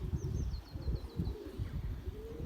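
A flock of Belgian racing pigeons produces soft coos and brief chirping notes against steady outdoor rumble and rustling, with a thin whistle-like series of tones early on.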